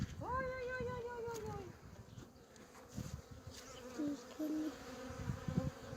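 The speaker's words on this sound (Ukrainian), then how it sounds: "Подивись. Пасіка літає." Honey bees buzzing steadily around a village apiary near Izium in Kharkiv region, a constant close hum under a brief animal cry and faint background noises.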